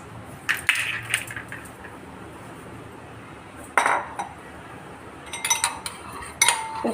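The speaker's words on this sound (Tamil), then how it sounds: "உப்பும் மிளகுத்தூளும் போட்டு இந்த 2 முட்டையை நல்லா கலக்கிக்குவோம்" Two eggs whisked with salt and pepper in a bowl, with intermittent metallic clinks and scrapes of utensil against the bowl in short bursts, close and clear with no talk.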